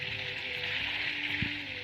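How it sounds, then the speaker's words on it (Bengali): Whole garlic cloves and potatoes fry in oil in a pan, giving a steady, even sizzle throughout, close and moderately loud, with a faint low clunk near the end and no talking. "আলুটা দিয়ে ভালো করে কষিয়ে নেবো।"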